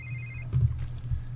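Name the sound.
phone ringing in The Sims 3 video game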